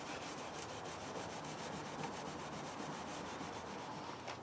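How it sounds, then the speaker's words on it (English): Faint, steady rubbing of sandpaper on a wooden German clock case during restoration, an even scratchy stroke pattern with no talking. "as I was sanding, you can see here in the corner, it's loose"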